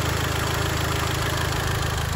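A 2019 Volkswagen Golf GTI Mk7.5 engine, warmed up, idles steadily nearby, a low even rumble with a faint rhythmic knock, no voices.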